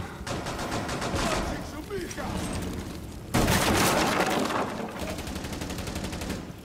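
Video game gunfire in rapid automatic bursts, loud and continuous with a brief pause before a heavier volley, while players talk over it.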